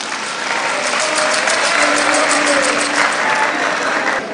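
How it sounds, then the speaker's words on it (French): Sustained, dense applause from a large audience acclaiming Guinea's president Mamadi Doumbouya at a cultural launch event, loud and even throughout without speech. "du président de la République, Mamadi Doumbouya, que je vous prie d'acclamer"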